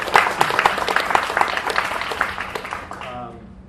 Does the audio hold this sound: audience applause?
yes